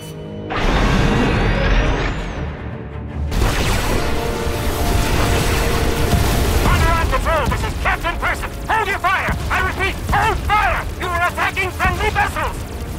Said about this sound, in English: Defensive cannons activated.